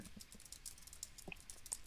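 Quick, light keystrokes rattle on a computer keyboard as a sports-trivia answer about the Miami Heat is entered, the clicks faint and irregular against a low background.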